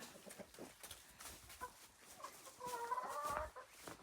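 Pet chickens cluck softly in a coop built beneath solar panels on a rural farm, with scattered faint clucks and a brief louder run of calls, quiet and slightly distant.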